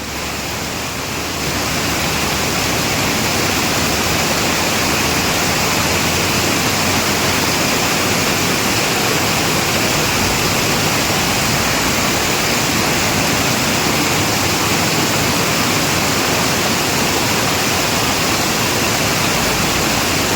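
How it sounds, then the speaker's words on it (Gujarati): A waterfall pours down in a loud, unbroken roar that fills the whole stretch, steady and close with no voices heard over it. "આમે કેટલો મસ્ત ધોધ પડે છે"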